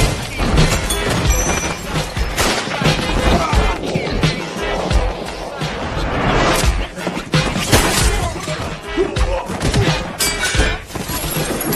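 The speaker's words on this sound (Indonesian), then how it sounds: "menghantam semua orang yang ada di sana, menghancurkan isi rumahnya" A brawl in an action film as people are struck and a house's contents are smashed: loud, dense crashes, shattering and thuds keep coming throughout, with voices in the mix.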